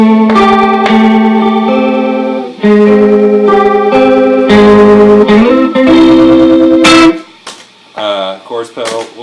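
Electric guitar run through a chorus pedal in a rig alongside other effects, playing sustained chords and single notes with a shimmering, wavering tone, loud and close, ending in a few softer plucked notes.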